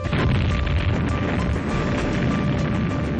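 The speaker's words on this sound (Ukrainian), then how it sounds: "24 вересня вдень у центрі Києва лунає потужний вибух." A powerful explosion in central Kyiv roars into a sustained, dense rumble that fills the whole stretch without letup.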